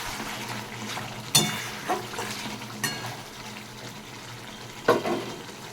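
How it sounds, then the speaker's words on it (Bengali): Spice masala being sautéed for a vegetarian curry, a soft low sizzle in the pan punctuated by several brief scraping stirs of the spatula, fairly quiet and without talk. "মশলাটাকে খুব ভালো করে কষিয়ে নিচ্ছি।"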